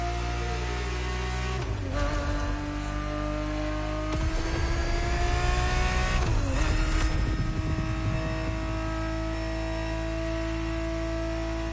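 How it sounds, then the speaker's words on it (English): A Ferrari 365 GTB4 engine drones in The Crew Motorfest, holding a steady tone with gear-shift-like pitch drops and rises as it accelerates, loud and alone. "365 GTB4 is the perfect vehicle for you to experience Ferrari racing as it felt back in the 70s"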